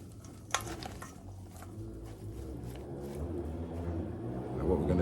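Chicken pieces and other ingredients get stirred around in a pan, with steady scraping and soft clatter over a low background hum, growing slightly louder toward the end, with one sharp knock near the start.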